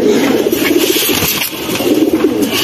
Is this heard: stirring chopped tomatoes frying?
no